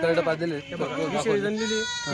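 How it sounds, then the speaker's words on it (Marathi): A Kathewadi dairy goat at a goat market bleats close by, a wavering nasal cry stretched over a couple of seconds, with someone talking over and around it. "ही दुधाची शेळी आहे हो"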